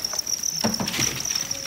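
Crickets on a cricket farm chirp in a steady high trill, close and continuous, with faint soft rustling underneath.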